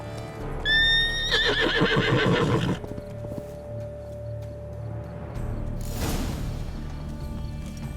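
Roach, a horse in The Witcher 3: Wild Hunt, lets out a loud, close whinny with a falling pitch, followed by clopping hooves and rustling. No one speaks.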